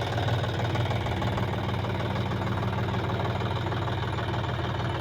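A tractor engine labours while hauling river sand, a dense, steady, close chugging rumble with knocking and vibration and no clear breaks, with no speech.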